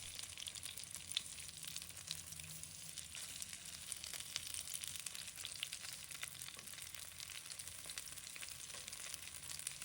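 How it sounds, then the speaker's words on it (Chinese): Chicken wings pan-fry slowly over low heat, giving a steady, even hiss of gentle sizzling throughout with no voices. "把所有的鸡翅全部给它放进来后，要开小火慢煎，煎至鸡翅一面金黄"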